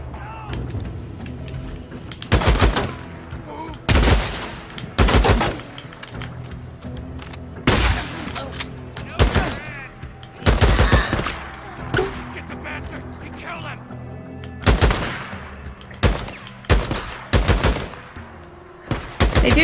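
Gunfire in the video game Days Gone arrives in loud, separate bursts and single shots spread across the clip, with quieter game ambience and low talk in the gaps.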